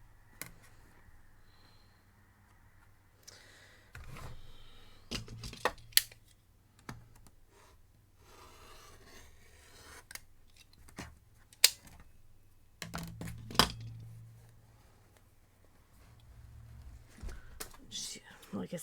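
Quilt fabric being cut for a Flying Dutchman block, scattered sharp snips and clicks separated by quiet stretches, close, with soft low murmuring talk at times.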